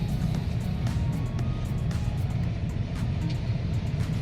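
A manual car creeps along slowly in first gear on flat ground at about 8 km/h, its engine a steady low rumble and hum that holds evenly throughout without speech.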